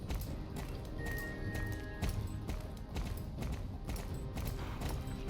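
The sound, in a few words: horse hooves running in Star Stable, video game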